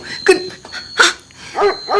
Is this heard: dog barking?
yes